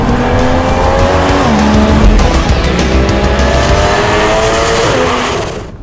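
A Porsche sports car driven hard on a small race track: a loud, close engine rising through gear changes, with tire squeal as it corners, fading at the very end.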